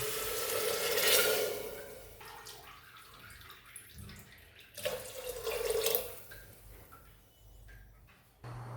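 Water poured from a cup onto washed rice in a cooker for jeera rice, splashing in two uneven bursts with quieter dribbles and handling sounds between, close and moderately soft.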